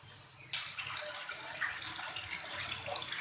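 Water pours steadily from a cup into a pan of sugar for gulab jamun syrup, a continuous close splashing stream that starts suddenly and runs on with no talk.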